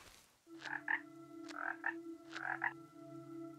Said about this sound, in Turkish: Kurbağamız var.